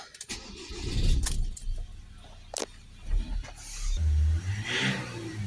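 A Ford Transit 2.2 RWD MK8 van engine cranks and starts with a low rumble, preceded by faint clicks and key jingles, then settles into a close, steady idle.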